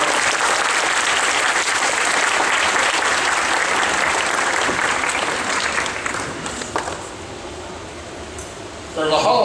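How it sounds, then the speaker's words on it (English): A crowd applauding, loud sustained clapping that thins and fades toward the end before a voice begins speaking. "Let's please give him a round of applause as we welcome him."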